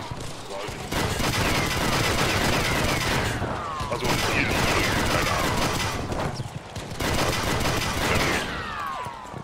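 In Battlefield V, the LVT's twin .50 caliber machine guns fire long rapid bursts that come and go with short pauses, loud and dense with game effects, while someone talks briefly over the gunfire.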